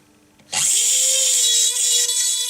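Rotary tool spinning up abruptly after a quiet lead-in, then a steady high-pitched whine as a bud burr cuts into a metal double coil pendant, close and loud.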